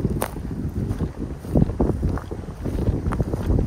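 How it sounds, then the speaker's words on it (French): Steady outdoor wind buffets and rumbles across the microphone in a garden where young cinnamon, coconut and Buddha's hand citron plants are set out, with gusts swelling and fading throughout. "il y a du vent"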